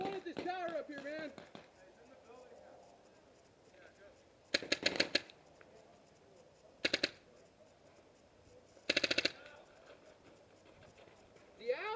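Paintball markers fire in three short rapid bursts during an outdoor paintball game, moderately close, each a quick volley of several shots separated by quieter stretches with distant voices and movement.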